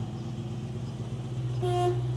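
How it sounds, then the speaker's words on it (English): A 1967 Ford Mustang Fastback's horn sounds briefly near the end, a short steady honk over a low idling engine rumble. "And can you honk the horn?"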